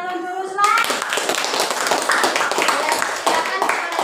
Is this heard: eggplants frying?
no